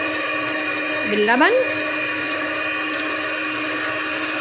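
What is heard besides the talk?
electric hand mixer blending cake batter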